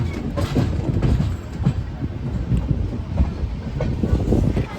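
The Pune–Hyderabad Shatabdi Express rolls steadily out of platform one at Latur railway station, with rhythmic clickety-clack of wheels over rail joints, loud and close, no voices.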